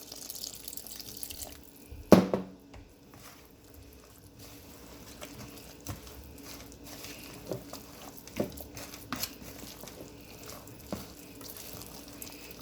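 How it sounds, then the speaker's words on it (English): Water pours in a brief splash into saltfish fritter batter, then small trickles and drips follow in short bursts over a quiet kitchen background. "Gonna add my water"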